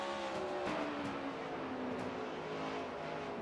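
A race car engine drones steadily, its pitch sliding and rising as it runs through sharp turns and up and down a hill in a stock car racing video game, continuous and fairly loud with no talking.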